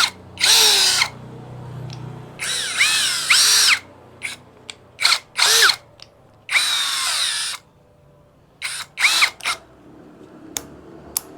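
A Tankmor 21V cordless hammer drill runs at low speed in repeated bursts of whining motor and gearbox noise, several short triggers between brief pauses, close and loud.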